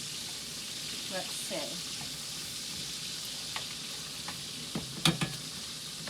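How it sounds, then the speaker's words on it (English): Bacon sizzles steadily in a pan with a bright crackling hiss, broken by a few light clinks and a brief spoken remark. "I hope you can hear me over this sizzling bacon."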